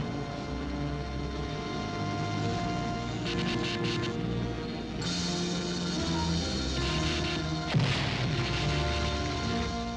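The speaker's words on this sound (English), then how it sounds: "The Great One himself sends the cosmic blast that atomizes rocket ship, space platform." A cosmic blast destroying a rocket ship in the 1953 film Robot Monster, rendered as a continuous loud roaring barrage of booming, crackling explosive noise that surges and breaks midway, with no talk.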